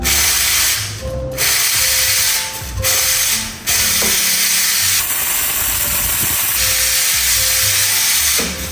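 Hissing steam rushes from the three-hole steam wand of a Gemilai CRM3035 espresso machine, loud and close, broken by a few brief gaps and mechanical clicks.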